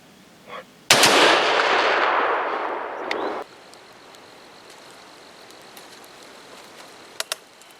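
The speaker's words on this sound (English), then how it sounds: "I'm gonna shoot a different one." A single loud, close gunshot during a hog hunt, its blast rolling off for a couple of seconds before fading to quiet outdoor ambience, followed by a couple of faint clicks.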